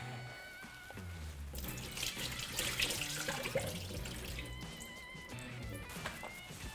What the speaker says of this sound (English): So what we're gonna do with the turkey is we're gonna drain off all the pickle juice.